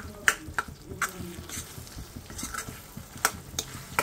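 Paneer bhujia, dhaba style, sizzles in a pan while a spoon stirs it, with sharp scraping clicks at irregular intervals over a soft continuous frying hiss and no talking.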